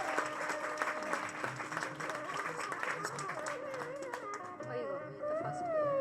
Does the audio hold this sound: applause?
yes